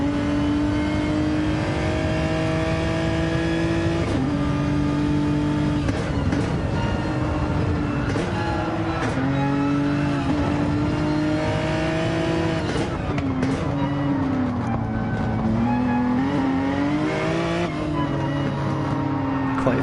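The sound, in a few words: race car engine from a PS4 racing video game, onboard chase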